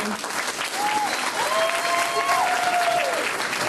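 An audience at a school Locks of Love event claps steadily in a sustained round of applause, with a few cheers and whoops rising over the clapping.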